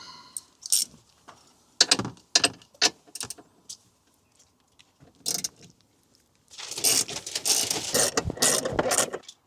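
A ratchet clicks in short, separate bursts as Torx T30 bolts are undone from a Ford Transit seat, then runs in a longer, faster stretch of clicking, close and fairly loud with no talking.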